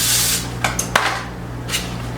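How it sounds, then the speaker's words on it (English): Vegetable cooking spray hisses onto baking pans in a short burst, followed by a few light taps and rubbing sounds as the pans are handled, then a second brief spray. "I'm going to go ahead and spray my pans with a little bit of vegetable spray."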